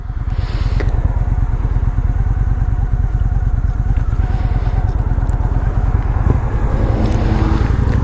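A 2003 Honda Shadow 750 American Classic Edition motorcycle idles steadily up close, a loud, even low-pitched engine pulse running unbroken throughout.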